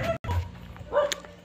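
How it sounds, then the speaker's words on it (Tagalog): Dog barking a couple of short, muffled barks at moderate distance against light outdoor background noise. "Aso na naman."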